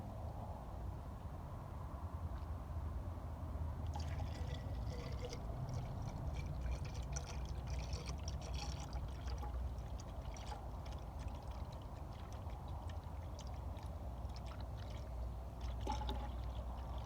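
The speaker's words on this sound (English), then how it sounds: "Give it some coolant." Coolant poured into the engine of a 2005 Chevrolet Malibu V6, a faint steady trickling and gurgling over a low continuous rumble, with soft splashy texture building after the first few seconds.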